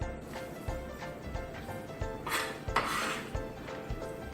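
Pieces of cut bacon dropped into an unheated pan, with repeated clanks and scrapes of the pan and utensils at a steady close rhythm, with no talking.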